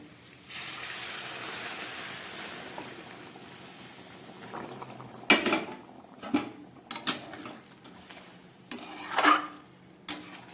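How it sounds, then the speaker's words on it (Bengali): Hot water poured into a pan of frying spiced fish curry: a soft steady pour and hiss for several seconds, then sharp bursts of sizzling and bubbling crackle as it hits the hot pan. "এবার এর মধ্যে আমি দিয়ে দিচ্ছি গরম জল"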